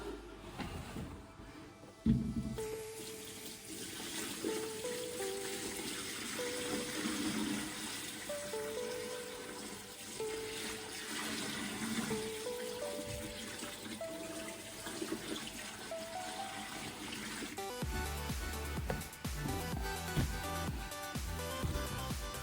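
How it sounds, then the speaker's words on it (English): Water tipped from a bucket onto the rockwork of a new marine aquarium, a continuous splashing pour that lasts several seconds before shifting to a different gush near the end. "I'll now add water. What you'll notice is I'm tipping it on the rock work instead of on the sand so it doesn't kick everything up."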